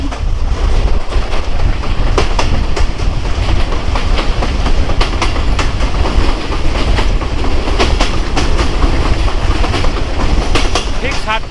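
Titumir Express passenger train running on rails between Rajshahi and Joypurhat, heard from inside: a loud continuous rumble with rhythmic clickety-clack of wheels over rail joints, recorded close on board.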